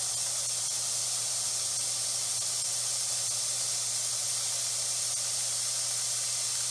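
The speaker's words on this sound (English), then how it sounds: "let all of that steam and all of that pressure bleed out of the pot" Steam and pressure bleeding out of an opened pressure pot, a loud, steady, unbroken hiss that holds at an even level for nearly seven seconds, with no talking.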